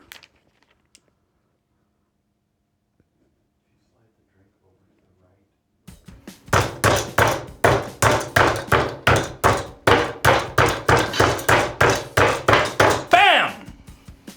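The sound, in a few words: grinding black pepper with mortar and pestle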